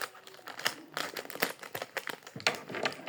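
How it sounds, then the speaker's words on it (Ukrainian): A small plastic packet being handled and closed up, a close series of irregular crinkles and crackles with short pauses between them. "Закрию наш пакетик"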